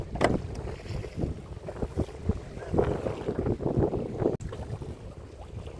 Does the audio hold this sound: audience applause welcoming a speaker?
no